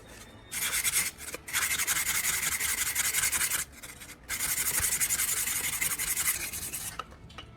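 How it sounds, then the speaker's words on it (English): Loosened rust is scrubbed off a chisel blade in long, continuous abrasive strokes, close and steady, broken by a couple of brief pauses between passes, with no voices. "I focus on removing loosened rust and old buildup from the surface."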